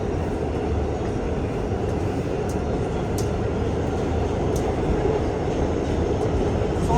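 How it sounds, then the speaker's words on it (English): Inside an R211T walk-through subway car running through the East River Tunnel, a steady dense rumble and rattle of the shaking train with a few brief metallic clicks, no talk. "And you see how the train is shaking?"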